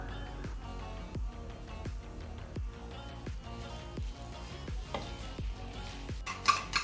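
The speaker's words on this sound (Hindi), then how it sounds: "इस ऑयल के अंदर मैंने इन तीनों चीज़ों को हल्का सा कुक करना है" Chicken, shredded carrot and cabbage sauté in two tablespoons of oil under a steady sizzle. A spatula scrapes the pan in an even rhythm, and a few metallic clatters come near the end.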